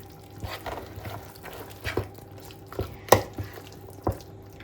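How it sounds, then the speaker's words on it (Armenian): A spoon stirs minced meat for kufta in a bowl, making close, wet squelches and irregular sharp taps a second or so apart, with no talking. "Նախ գթալով խառնեմ։"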